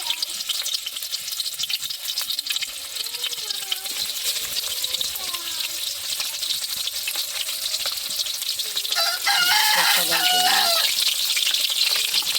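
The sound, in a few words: rohu fish pieces frying in oil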